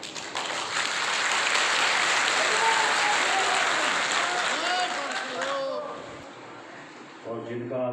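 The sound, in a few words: audience applauding at a public event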